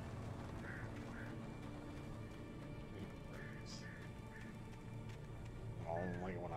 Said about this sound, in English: I don't like it when I hear birds.